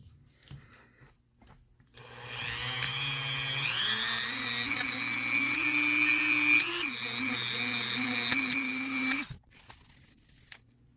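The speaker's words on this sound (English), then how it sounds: "our Dremel with the polishing pad and some polishing compound is a really good option here" A Dremel rotary tool with a polishing pad and polishing compound buffs a firearm part, a steady high-pitched whine that starts after two seconds, shifts pitch under load and stops near the end.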